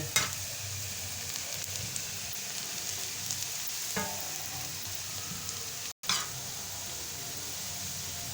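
Onions fry in a pan for Lahori tawa keema, giving off a continuous crackling sizzle close up, with a few sharp clatters from stirring breaking through the steady hiss.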